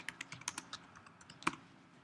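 Fingers type on a computer keyboard in a quiet room: a quick run of light, distinct clicks, a short pause, then a sharper keystroke, all close and fairly soft.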